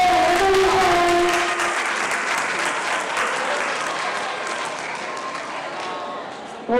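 A crowd at a school track and field finals applauds a boys' relay winner, a sustained, loud wash of clapping and cheering that slowly fades, with a voice calling out near the start.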